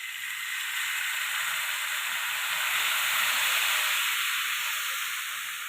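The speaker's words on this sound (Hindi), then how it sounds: "हल्की सी आंच पे इसको मैं आहिस्ता आहिस्ता फ्राई करूँगी" Steady, loud sizzling hiss of drained paneer frying slowly over low heat in a pan for carrot halwa. It runs continuously and close-up with no breaks and no voice over it.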